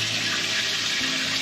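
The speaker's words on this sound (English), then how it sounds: "showering outside" Steady running water from an outdoor shower at a wild-camping spot beside a campervan in North Devon, a continuous close hiss with no talk.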